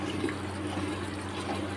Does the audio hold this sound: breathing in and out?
no